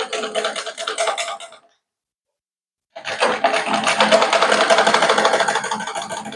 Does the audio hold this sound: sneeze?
no